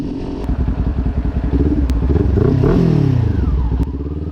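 A Kawasaki Ninja 400 motorcycle engine revs loudly and close, its throttle rising to a sustained high pitch with mechanical clatter before dropping back to a steady idle, with no talking.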